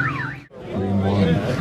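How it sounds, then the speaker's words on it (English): Two electronic car alarms wail at once at an import car show, one warbling up and down, the other a steady pulsing tone, loud and close. "So you have two car alarms."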